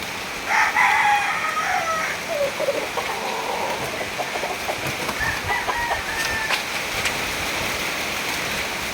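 A rooster crows near the start, followed by occasional clucking over a steady patter like rain falling on a surface.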